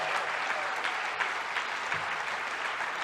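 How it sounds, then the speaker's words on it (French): A small crowd at a political party gathering bursts into steady, continuous applause that holds at an even level throughout. "Ça mérite vraiment un applaudissement"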